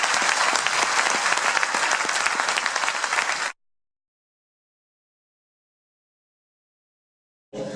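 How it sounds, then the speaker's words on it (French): An audience at a New Year's greetings ceremony for a community of communes gives a loud, dense round of applause that cuts off abruptly, followed by silence before another burst starts. "je vais vous demander de faire un applaudissement de fin pour cette période"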